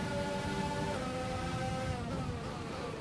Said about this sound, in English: ETA on this rain clearing up is about 10 minutes